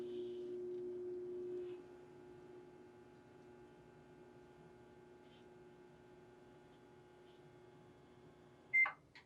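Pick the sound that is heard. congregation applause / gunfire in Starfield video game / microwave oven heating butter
microwave oven heating butter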